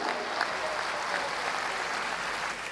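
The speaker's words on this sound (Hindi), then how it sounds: "एक बार आपकी जोरदार तालियां।" A large audience at a Hindi poetry event claps heavily in a steady, continuous roar of hands that holds at an even level for the whole stretch.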